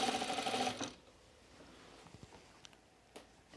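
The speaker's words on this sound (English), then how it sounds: "oh, I'm winding a bobbin." A home sewing machine winds a bobbin with a loud, steady whirring buzz for just under a second, then stops, leaving quiet room tone with a few faint clicks and taps.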